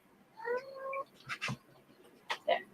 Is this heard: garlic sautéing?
no